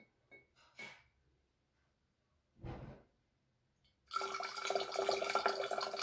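Water is poured into a jar already holding oil and alcohol in a simple mixing experiment. A few faint taps and a soft breathy rustle come first, then a steady, close splashing gush of liquid fills the last two seconds.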